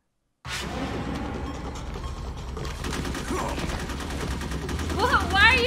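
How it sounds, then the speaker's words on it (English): Rapid bursts of automatic gunfire from the video game Metal Gear Solid, loud and sustained for several seconds, with ringing mechanical clatter and rising whine near the end. "why are you firing at us?"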